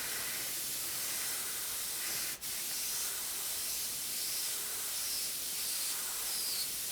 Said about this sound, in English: give a little spray first just to get the paint coming through